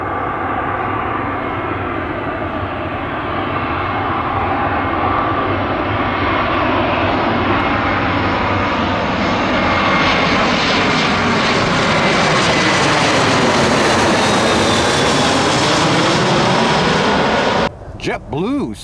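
JetBlue airliner passing low overhead near Tampa airport while spotters watch from Cypress Point Park, a loud, close jet roar that swells steadily, with a Doppler sweep as it passes before the sound cuts off at the end.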